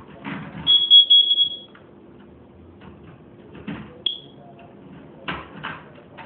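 A carbon monoxide alarm sounds a couple of short, piercing electronic beeps among scattered clunks and faint knocking in a quiet room.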